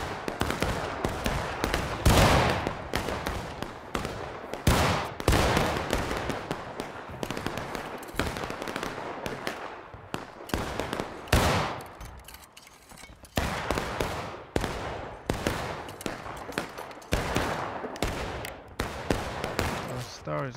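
Rapid musket volleys in the video game War of Rights during a historical rules event, with repeated sharp gunshots cracking near and far in an irregular, dense stream and voices talking over the firing.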